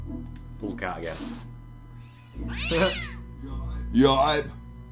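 A cartoon cat in the PS4 version of the point-and-click game Day of the Tentacle lets out three yowling meows in turn, with a squeal-like cry between them. Someone talks quietly beneath the sounds.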